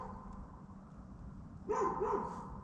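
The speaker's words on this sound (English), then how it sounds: "I don't know what it's barking on, unless it's barking at me." At night near a tent during a wild camp, a dog gives a couple of short barks at moderate distance after a stretch of quiet low background noise.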